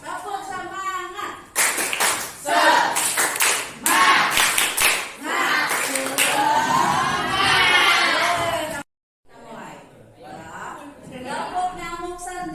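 A group of teachers and participants claps a patterned rhythmic cheer together during an academic supervision session: loud, close bursts of synchronized clapping in a repeating beat, then a pause and speech.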